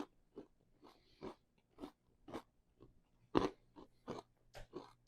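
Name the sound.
crunch of biting toasted croutons in French onion soup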